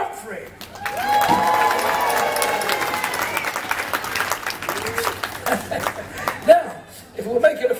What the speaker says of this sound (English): Give him a great big round of applause